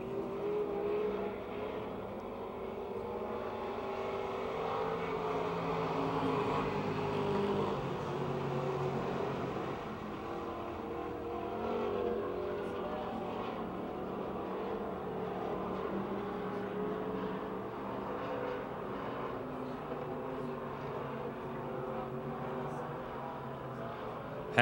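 Race cars lap Pennsylvania Motor Speedway at a distance, a continuous faint engine drone that rises and falls as they circle, with occasional commentary over it.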